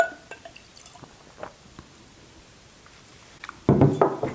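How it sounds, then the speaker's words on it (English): Bourbon whiskey being poured into a glass, a 100-proof Wilderness Trail pour: a few faint drips early on, then a louder liquid splash and gurgle filling the glass near the end, with no talking. "So let's get a pour"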